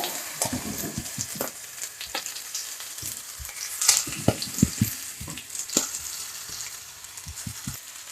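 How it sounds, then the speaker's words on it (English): Cucumbers hit a hot pan with cilantro, giving a steady close sizzle under repeated stirring and utensil clinks, including a few sharper knocks, with no voices. "I'm going to put the cucumbers in here."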